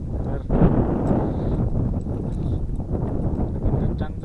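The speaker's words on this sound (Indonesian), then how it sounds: "Angin kencang, terus tadi juga sempat gerimis juga." Strong wind buffets a mountain summit at about 1235 m, a steady loud rumbling roar against the microphone from start to finish, with no break in the gusting.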